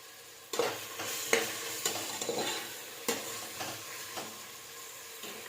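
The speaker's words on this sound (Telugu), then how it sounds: "సో టమోటాస్ కొంచెం మెత్తపడేంత వరకు మనం దీన్ని ఫ్రై చేద్దాం." Tomatoes and chillies sizzling and frying in a pan for egg biryani, a constant soft hiss broken by repeated stirring scrapes every second or so, close and fairly quiet.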